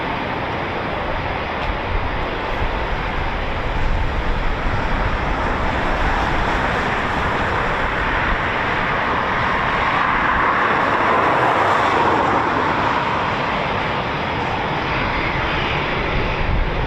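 Eurofighter Typhoon FGR4 jets taxiing at RAF Coningsby as a flight of four, a loud, continuous engine roar and whine that stays steady and heavy throughout, with no voices.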